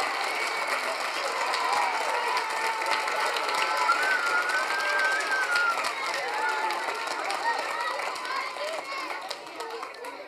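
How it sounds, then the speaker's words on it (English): An audience at a first and second grade school choral concert applauding the teachers, with dense, sustained clapping from a full room that fades slightly toward the end. "Can we give those teachers a big round of applause?"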